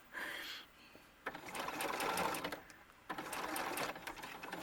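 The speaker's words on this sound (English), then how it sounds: "I'm going to bring the edges together as I sew" Sewing machine stitching a small doll bustier seam in two short runs of rapid needle chatter, close and clear, separated by a brief pause.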